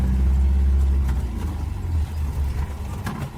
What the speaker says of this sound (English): This thing just chugs along, don't it?